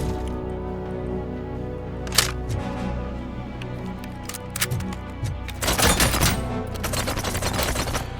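Machine gun fire in Robocop Rogue City, scattered sharp cracks and then a dense sustained burst near the end, loud and close over a low game background hum, with no talk.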